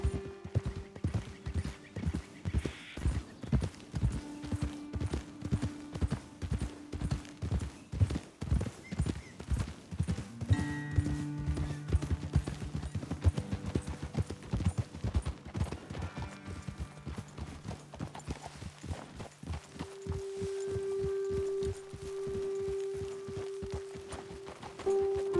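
Horse hooves clip-clop steadily while riding across terrain in Red Dead Redemption 2, a regular walking rhythm close by with occasional whinnies and background game music tones, no talking.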